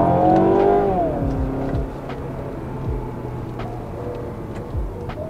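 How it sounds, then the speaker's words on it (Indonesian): A rare Mazda car kicks down a gear and its engine revs up in a rising whine, then settles into a steady drone with several low surges, heard from close by inside the car with no talk. "Kita turun gigi satu, kick down."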